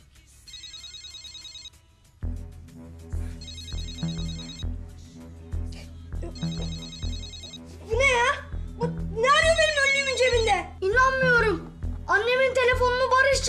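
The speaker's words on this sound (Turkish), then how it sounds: "şu kafenin telefonunu ver de bir çaldırayım" A mobile phone ringtone rings in repeated short electronic bursts after being called, followed by people talking over a low room hum.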